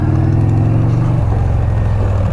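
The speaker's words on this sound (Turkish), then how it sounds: "Oo traktör." A tractor rumbles past at a nature park near Çorlu, its loud low engine drone shifting pitch as it goes by close at hand.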